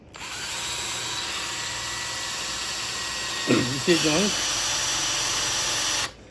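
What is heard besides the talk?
electric drill drilling into metal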